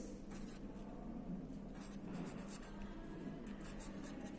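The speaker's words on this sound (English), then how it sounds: "Here we will write biscuits" A pen writes on paper during a maths lesson, making faint, scratchy strokes in short bursts against a low steady background hum.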